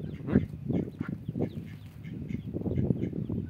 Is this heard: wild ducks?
yes